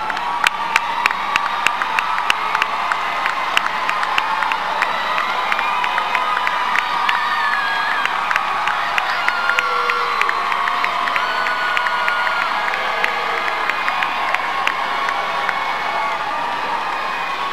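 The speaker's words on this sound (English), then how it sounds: "please join me in a standing ovation to thank your family and friends" A graduation audience gives a standing ovation, and a large crowd keeps up continuous cheering, whoops and dense applause throughout.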